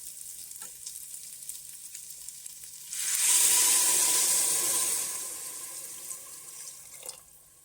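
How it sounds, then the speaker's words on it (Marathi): Hot water poured into a pan of sizzling masala with garam masala for mutton paya soup. Near-quiet at first, then a loud, close burst of hissing sizzle begins abruptly and gradually fades to a lower simmering hiss. "त्याच्यानंतर याच्यामध्ये आपण गरम पाणी घालून घेणार आहोत।"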